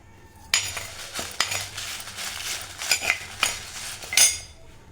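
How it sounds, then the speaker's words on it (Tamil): Dried red chillies roasting and stirred in a pan while making a mixed-lentil spice powder, with a series of sharp metallic clinks and scrapes of a spoon against the pan, fairly close and irregular, no talking. "இப்போ அடுத்ததாக பார்த்திங்கன்னா மிளகாய் வற்றலை வறுத்து எடுத்துக்கலாம்."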